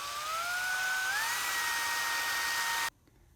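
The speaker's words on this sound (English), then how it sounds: "So I've drilled that out." A small high-pitched drill whines steadily while drilling out a part on a 1/64 scale model truck, its tone rising slightly as it spins up, then cuts off abruptly near the end.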